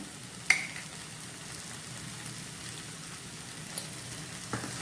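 Chili powder and turmeric are stirred into a fish curry in an AMC cookware pan over a soft continuous sizzle, with a few faint utensil clicks against the pan and no talking.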